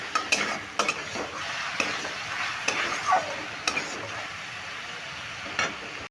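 Turmeric, salt and tomato paste fry in a pan while being stirred, giving a steady close sizzle broken by repeated sharp scrapes and clinks of a spatula against the metal for a vegetarian okra masala curry.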